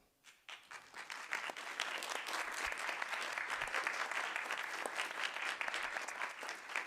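A school board meeting audience applauds National Board Certified Teachers, the clapping building from a few hands into a full, sustained round across the room.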